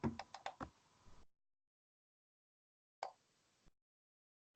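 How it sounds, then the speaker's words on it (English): Quiet typing on a computer keyboard: a quick burst of about five keystrokes, then a pause and a few isolated taps, close and faint. "Am I typing way too loud?"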